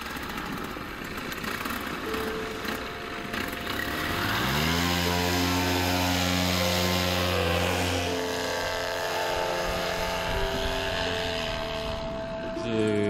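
Paramotor engine droning in flight, a steady harmonic buzz that rises in pitch and settles into a loud, sustained tone, heard alone without talk.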